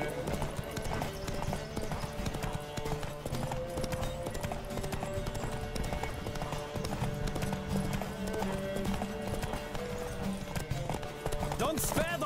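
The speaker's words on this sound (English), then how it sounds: "Don't spare the horse!" Horse hooves clip-clopping at a gallop during a horse race in The Witcher video game, a steady rhythmic beat under continuous music and rider shouts.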